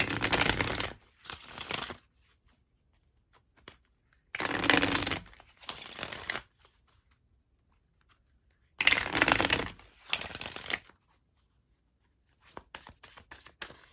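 Oracle cards being shuffled by hand in several brisk bursts, each a quick run of papery riffling and slapping, separated by short quiet pauses with a few faint card taps at the end.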